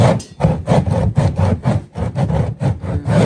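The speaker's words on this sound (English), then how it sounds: "just sand it down to make it even, just like that." A piece of cement rubs back and forth across the surface of a dragon fruit trellis built from number 9 gauge wire, leveling it in steady, loud rasping strokes, about ten close grinding passes with no talk.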